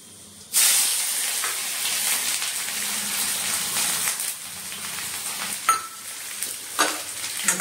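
Cumin seeds dropped into hot oil for a pahadi lunch dish, bursting into a loud steady sizzle and hiss with occasional sharp crackles and a stirring scrape, no talking.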